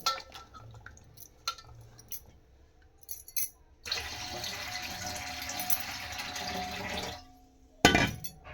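Running water splashes into a container as soaked grains for idli are rinsed, for a few seconds, with scattered clinks and light handling sounds before and after.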